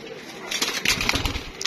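Pigeons kept for a 16-bird flying game coo and flap their wings, with a few soft bursts of wingbeats and calls rising after a quiet start, close by.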